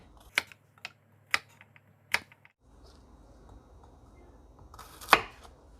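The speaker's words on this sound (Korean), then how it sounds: "먹기 좋게끔 썰어 볼게요" A knife cuts through garlic cloves on a board in a small kitchen, giving a few sharp separate chops spaced about a second apart, then a pause and one louder cut against faint background hiss.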